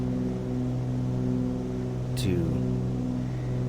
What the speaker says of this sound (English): those engines are just, they're overpowering